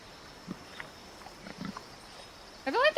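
Pig in Assassin's Creed Black Flag giving a few short grunts at moderate distance, then a louder burst of squealing, rising cries at the end.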